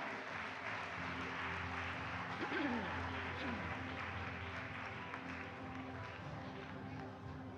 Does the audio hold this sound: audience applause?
yes